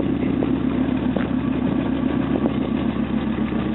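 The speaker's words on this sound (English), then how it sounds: "Now they've got this dual straight pipes on this truck." A 2000 Ford F250 XLT pickup truck engine with dual straight pipes idles nearby, a steady, rough, throbbing rumble with no voices.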